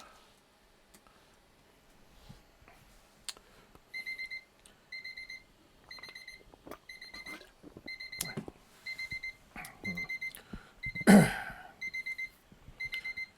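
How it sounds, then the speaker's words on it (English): A 15-minute timer alarm rings in quiet, regular bursts of high beeps that repeat steadily for several seconds, with faint background rustling and a brief louder noise partway through. "So there's my 15-minute timer."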